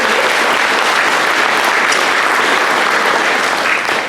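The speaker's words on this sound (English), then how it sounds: "I think we should give her a round of applause." At a lake association's annual meeting, a room full of people gives a sustained round of applause, loud, dense and even clapping that continues for the whole stretch without talk.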